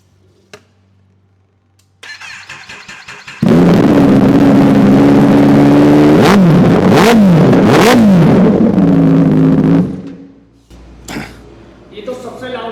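A Kawasaki ZX-10R fitted with an Arrow decat exhaust starts and idles loudly up close, then is blipped through several sharp revs before being shut off, with a person talking briefly at the end.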